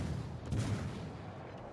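The main guns of the German cruiser Mainz fire in a naval battle game, a low booming salvo rumbling up midway over a quiet, steady background.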